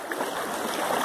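Riacho do Tigre creek at a rural property in Solonópole, Ceará, Brazil, running full after rain: a continuous broad rush of flowing water, close and steady for about a second.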